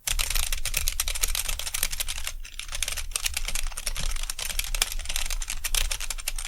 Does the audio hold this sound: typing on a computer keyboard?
yes